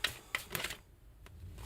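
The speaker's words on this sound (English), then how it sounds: "One more shuffle." A deck of tarot cards is shuffled by hand in a few quick, crisp riffling bursts close by, followed by softer, sparser card clicks.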